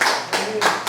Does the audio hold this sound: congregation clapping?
yes